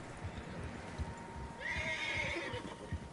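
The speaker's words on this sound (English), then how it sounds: "Horses, quite a few of them." Horses in the Red Dead Redemption video game, hooves clip-clopping in a steady rhythm with a clear neigh rising midway, fairly faint and close, no talk over it.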